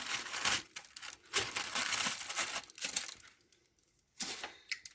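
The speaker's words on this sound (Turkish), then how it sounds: "Mutfak makasımla kesiyorum." Kitchen scissors cut open a hot oven bag of baked green beans, producing loud crinkling, rustling plastic in quick irregular bursts with short pauses between snips, close up.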